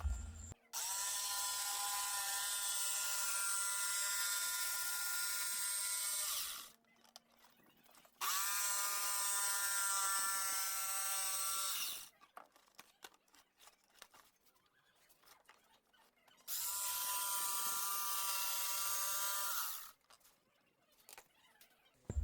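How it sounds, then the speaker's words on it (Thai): A jigsaw buzzes loudly in three long bursts of a few seconds each while making a mold for a round cement flower pot, separated by quieter gaps with faint clattering. "สำหรับเครื่องมือที่เพื่อนๆเห็นอยู่ในคลิปนะครับ เรียกว่าเลื่อยจิ๊กซอครับผม"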